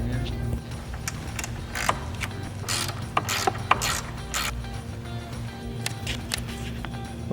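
Close, repeated ratcheting clicks in uneven bursts from a 10mm socket ratchet loosening a nut on a Jeep Wrangler JL or Gladiator JT, over a steady low hum.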